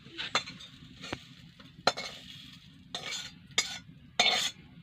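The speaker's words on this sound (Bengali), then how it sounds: "দেখো বন্ধু কলা ভাজা হয়ে গেল" Banana slices frying in oil while a utensil stirs them, with soft sizzling under intermittent scraping and clinking strokes against the pan, close and moderately loud.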